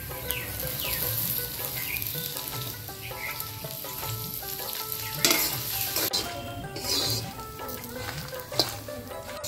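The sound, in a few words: garlic and dried chillies frying in mustard oil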